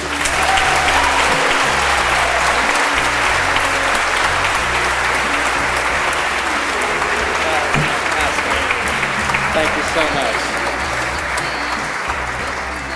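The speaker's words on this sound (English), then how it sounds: "We have another round of applause for Zeke" Loud, dense audience applause fills a hall at a library's children's literary award ceremony, running steadily throughout, with a brief spoken thank-you from the stage and a low hum underneath.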